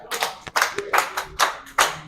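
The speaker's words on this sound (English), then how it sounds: "Clap for her." Close, short applause: several hands clap in quick, uneven bursts for a couple of seconds.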